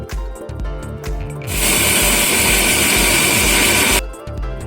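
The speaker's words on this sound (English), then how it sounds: "Grind it." A mixer grinder blends garlic and coriander leaves into a masala in a home kitchen, with a loud, steady high-pitched whir for about two and a half seconds between rhythmic mechanical knocking before and after.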